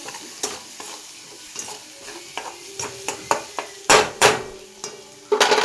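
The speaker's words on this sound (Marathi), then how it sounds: "आता हे असं मस्तपैकी हलवायचं" A spoon scrapes and stirs pasta with Maggi masala in a cooking pan, with repeated close scraping strokes at an uneven rhythm and a couple of louder bursts near the end.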